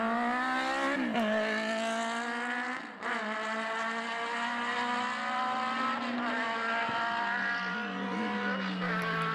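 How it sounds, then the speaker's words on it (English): Sports racing cars blast down the straight at Mondello Park circuit in a close, loud, sustained engine roar with rising and falling pitch, one car passing close by and others following, no talk. "Eamon Matheson leads the sports cars, blasting down the straight ahead of Tom Gaughran there"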